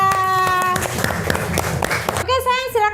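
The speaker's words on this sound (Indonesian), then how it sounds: "beri tepuk tangannya meriah buat Mas Atta" A class of young children claps together in a school classroom, a brisk, busy patter of small hands that follows a voice and gives way to more chatter at the end.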